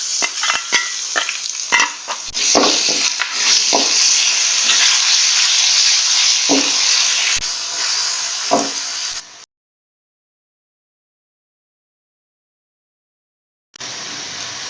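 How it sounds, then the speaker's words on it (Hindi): Garlic sizzles in hot oil with frying onion while a spoon stirs and scrapes the pan in close, irregular knocks over a loud continuous hiss, then a few seconds of silence before the sizzling resumes. "अब मैं इसमें लहसुन डाल दूंगी।"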